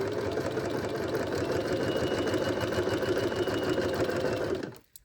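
A sewing machine runs steadily, stitching a fabric hem with a fast even mechanical whir, then stops abruptly near the end.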